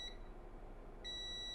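Multimeter continuity tester beeping on a phone circuit board, a faint high steady tone that sounds briefly, stops, then returns, over low background hum.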